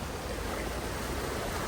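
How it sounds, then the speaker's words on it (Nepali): Broadband rushing of a mountain stream and waterfall along the Annapurna base camp trekking trail in Nepal, a steady, loud, unbroken roar with no voices. "खोला नाला झरना आहा कति रमाइलो"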